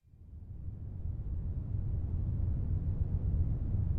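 A low, dark Omnisphere synth drone in the Blade Runner style, the Low City Rumble patch, fades in from silence and settles into a steady, noisy rumble that holds alone for several seconds.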